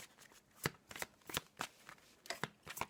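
Tarot cards being shuffled by hand in a fortune-telling reading, a quiet, close series of quick riffling flicks and slaps in an uneven rhythm with no talk.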